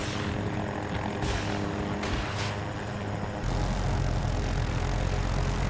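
A helicopter in the video game Battlefield 2042 drones loudly and continuously with rotor and engine, a thick, rumbling whir that grows heavier partway through.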